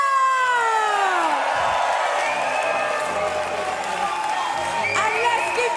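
Crowd applause and cheering ring out for the winner of a chessboxing title bout decided by knockout, loud and sustained with shouts and an announcer's voice over it.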